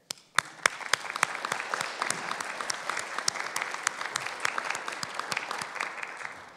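Audience applause at a youth entrepreneurship competition, sparse individual claps at first quickly building into steady, moderately distant clapping from a crowd.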